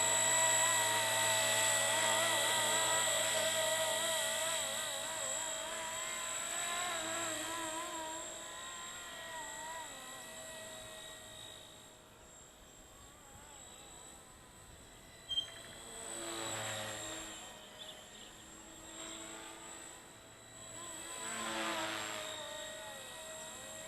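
A Blade 230S MD500E RC helicopter flies around a park, its rotor and motor holding a steady high whine with shifting pitch as it cruises nearer and farther.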